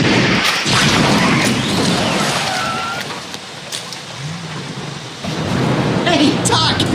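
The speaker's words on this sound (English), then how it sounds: "It's pouring rain out here." Heavy pouring rain hisses steadily while low thunder rumbles and booms, loud and continuous for several seconds, with a brief dip in intensity midway.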